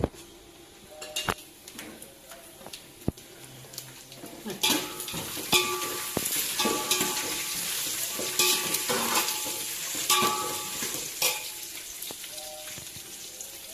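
Cumin seeds and curry leaves hit hot frying oil and sizzle softly, while a spoon scrapes and clinks against the pan in irregular stirring strokes.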